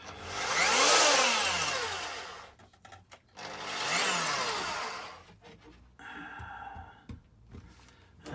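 A power drill boring holes into a model railway baseboard, with two whining bursts that rise in pitch and then fall away, followed by short scraping and clicking handling sounds.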